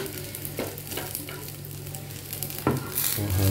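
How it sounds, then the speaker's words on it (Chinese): Food sizzles in a frying pan with a steady crackling hiss, broken by a brief scrape and a louder burst near the end. "这样子放了之后你就拿来煎。"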